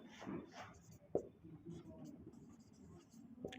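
Writing on a board, a few short scratchy strokes and one sharp tap, faint and close, under a quiet speaking voice.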